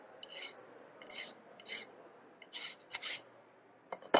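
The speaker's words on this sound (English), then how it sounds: "you have to go for the deburring. So deburr it all the sides." A hand file rasps along metal edges while deburring, in about six short scraping strokes with quiet pauses between them, close and fairly soft.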